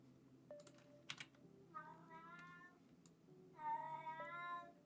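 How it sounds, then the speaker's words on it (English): A pet cat gives several loud, drawn-out meows, two long wailing calls among shorter ones, close by over soft keyboard typing at a desk. "My cat is screaming."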